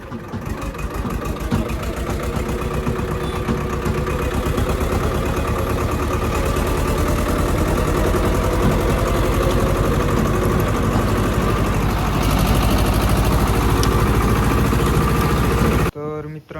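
A Swaraj tractor engine runs steadily on the way home after unloading, a loud, close, continuous low mechanical throb with fine rapid pulsing, cutting off abruptly at the very end.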